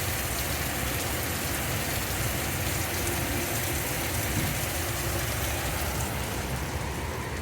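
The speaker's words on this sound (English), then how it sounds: "It just seems to rain here nonstop, continually almost." Steady rain falls on a rainy Fourth of July, a dense constant hiss that stays even and loud throughout with no voices.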